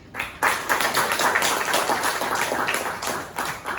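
Applause opening a public seminar on North Korean human rights law: after a quiet moment, a crowd breaks into steady, dense clapping that holds evenly at moderate loudness for several seconds.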